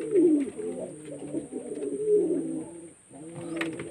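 Pigeons coo steadily and loudly at close range while the flock is being vaccinated during the rainy season. The throaty, rolling calls overlap, pause briefly, then resume, with no one talking.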